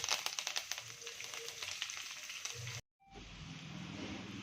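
Coriander dropped into a hot pan of tempering spices crackles and sizzles steadily at close range, with a brief dropout before the frying hiss resumes.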